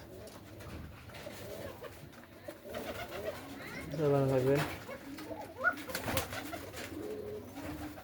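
Pigeons kept in a loft coo in low, throaty bursts, loudest near the middle, while a person speaks nearby.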